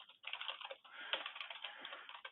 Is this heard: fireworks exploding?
no